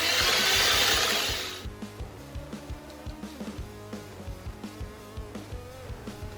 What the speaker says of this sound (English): So go ahead and add your second egg and whisk again until smooth.